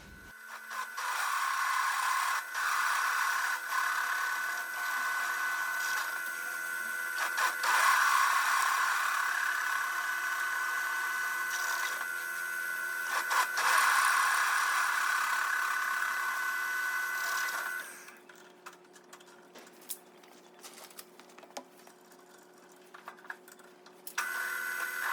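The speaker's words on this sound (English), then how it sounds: "So I'm going to drill them through 12mm." A drilling machine bores 12mm holes through shop-made steel bearing mounts for a line borer, giving a steady loud whining grind for about eighteen seconds before the cut ends and the motor drops to a quieter run with scattered clicks.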